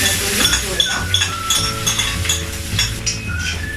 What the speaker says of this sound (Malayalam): തേങ്ങാക്കൊത്ത് ഇട്ടൊന്ന് എണ്ണ ചൂടായി ഇതിട്ടൊന്ന് നമ്മളൊന്ന് വറുത്തെടുക്കാം